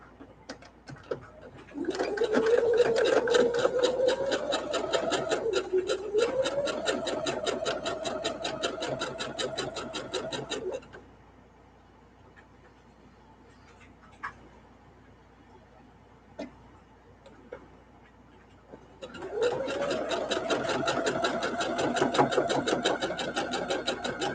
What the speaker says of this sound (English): we're going to pin those and sew the bottoms now